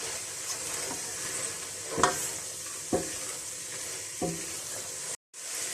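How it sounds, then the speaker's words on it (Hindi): Vegetables and macaroni being mixed in a frying pan, a steady sizzle of frying underneath a few distinct scrapes and clunks of a utensil stirring, with no talking. "इनको मिक्स करेंगे।"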